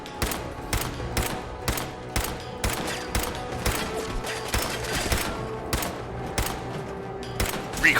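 Rapid, evenly spaced gunshots from a scoped rifle in the video game Fallout 4 crack out one after another, sharp and fairly loud over a low game backdrop.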